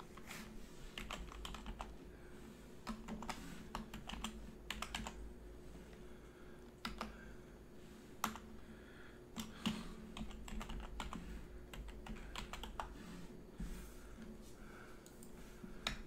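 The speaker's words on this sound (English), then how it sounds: "I'm going to type it in there now." Typing on a computer keyboard, close and quiet, with irregular bursts of key clicks and brief pauses.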